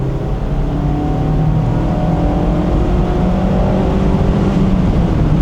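A Mazda MX-5 sports car driving on a road, giving a steady loud engine drone with road and tyre rumble, heard from inside the car without pause throughout.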